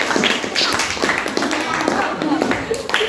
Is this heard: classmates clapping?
yes